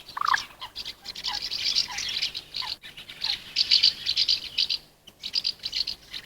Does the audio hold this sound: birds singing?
yes